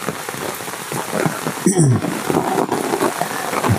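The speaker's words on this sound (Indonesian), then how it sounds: "Ini di sini malah hujan pemirsa" Rain patters steadily on surfaces nearby, a dense constant hiss with a few louder drops and faint background movement.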